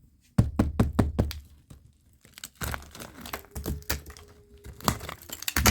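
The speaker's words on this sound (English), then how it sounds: "when you get that kind of hollow sound, it's because the plaster is so old, it comes away from the wall" Old plaster coming away from a wall, tapped and pried loose with hollow knocks, cracking and crumbling bursts, close and fairly quiet, with a brief lull partway through.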